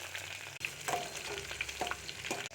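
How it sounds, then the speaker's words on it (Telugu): Tempering spices frying in hot oil in a pan, a close crackling sizzle with small pops and spits throughout, loud and unbroken with no talk. "తాలింపు వేయాలా,"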